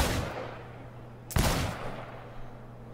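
Gunfire at a shooting range in the Cyberpunk 2077 video game: one sharp shot at the start and another loud crack midway, each decaying into a low hum.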